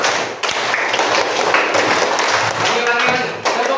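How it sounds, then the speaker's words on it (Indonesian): A classroom of students claps a five-beat rhythm twice in a row. Many close, overlapping claps form a dense, busy wash, with voices mixed in. "Tepuk 5 2 kali."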